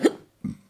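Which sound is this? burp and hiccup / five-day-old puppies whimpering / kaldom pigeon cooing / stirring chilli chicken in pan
burp and hiccup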